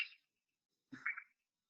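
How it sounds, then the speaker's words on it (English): Malabar tree toad calling, two short, faint, rasping notes separated by silence, recorded alone in a quiet setting. "This is Malabar tree toad."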